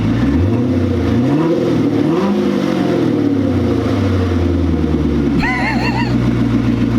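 A Corvette Stingray's loud, raw engine idles and revs close by with the exhaust removed at a catless header dump, its deep rumble rising and falling with throttle blips and a brief higher whine near the end.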